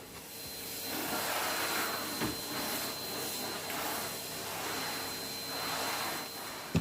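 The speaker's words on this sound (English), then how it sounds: "Right, hoovering." A household vacuum cleaner hoovering indoors, a steady whining motor hiss that runs continuously with faint shifts as the head is pushed back and forth, and a small knock near the end.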